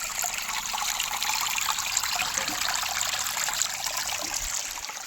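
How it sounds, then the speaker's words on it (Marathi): Water flows steadily near village houses, a constant, soft trickling wash that runs alone without a break. "वरती तुम्ही इथे वाहत असलेल्या पाण्याचा आवाज देखील ऐकू शकताय"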